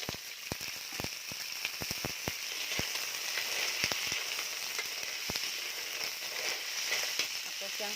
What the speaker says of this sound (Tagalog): Dayon akong ihulog ang clams.